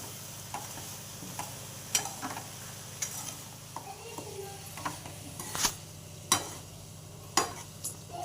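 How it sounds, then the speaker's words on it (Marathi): A spoon stirs grated jaggery into a thick mixture in a pan over medium heat, a soft sizzle underneath with light, evenly spaced taps and scrapes, quiet and near, no speech. "गूळ बारीक केलेला आहे, तो पण याच्यामध्ये टाकून घ्यायचा. हे चांगलं असं मिक्स करायचं हळूहळू."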